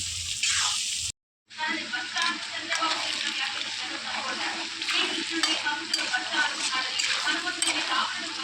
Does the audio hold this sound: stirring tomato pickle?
yes